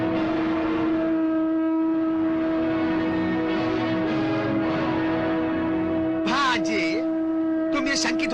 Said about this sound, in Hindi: तो फिर ये शंख कौन बजा रहा है?